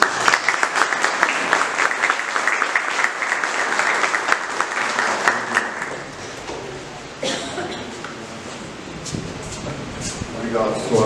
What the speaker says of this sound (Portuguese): Uma grande salva de palmas para o nosso palestrante, Marino de Tela.